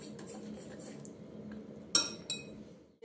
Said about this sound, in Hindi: इसको मिक्स कर दे रही हूँ